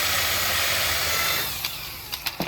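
A power drill drives an oversized countersink bit into a hole during an RV slide-out room repair, whining loudly and steadily before winding down into a few short knocks.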